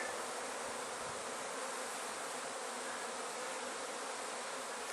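Honey bees buzz densely around an opened hive, a continuous close swarm drone that stays steady and loud throughout with no voices.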